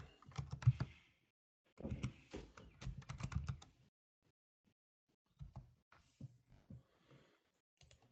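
Quick bursts of keystrokes on a computer keyboard entering a Linux shell command, close and crisp, separated by short pauses and silence.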